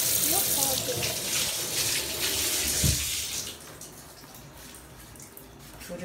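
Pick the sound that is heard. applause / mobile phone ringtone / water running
water running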